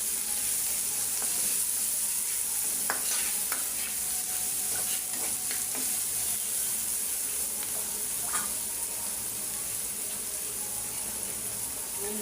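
Onions sizzle steadily in a pan for an egg curry while being stirred, with scattered scraping clicks over an even frying hiss, close and moderately quiet, with no voices.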